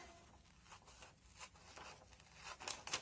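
Scissors cut through paper for a children's craft, a faint series of soft snipping and rasping strokes that build to a few crisper cuts at the end.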